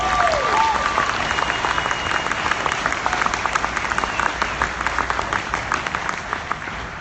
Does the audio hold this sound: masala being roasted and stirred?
no